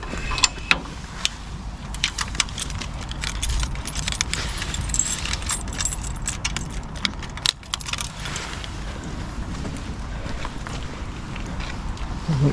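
Keys jangle and clink repeatedly at close range while a campsite garden gate is being unlocked, with light handling clicks and faint outdoor background noise.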